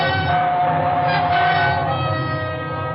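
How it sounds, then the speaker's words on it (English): A train roars through a tunnel in an old radio drama, a loud, sustained rumbling rush with a dense metallic hum that holds steady and fades slightly toward the end. "It was only the train going through the tunnel"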